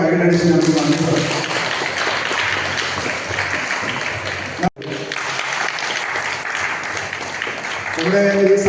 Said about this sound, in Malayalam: ഈശോയ്ക്ക് നമ്മൾ ശക്തമായിട്ട് കൈയടിച്ച് നമുക്ക് നന്ദി പറയാം.